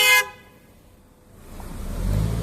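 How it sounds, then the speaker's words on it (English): A single short, loud honk from a car horn, near and abrupt, followed by quiet and then a low passing engine rumble building at an RV park. "I think that's Pam honking at me."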